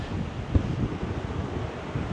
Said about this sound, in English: the water in the wind when it's windy like this. The waves kick up